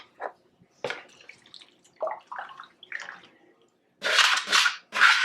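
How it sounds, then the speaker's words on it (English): Milk is poured into a macaroni and cheese mixture, giving a close, splashy liquid gush near the end after a few soft clinks and stirring taps. "I'm going to incorporate my milk in there."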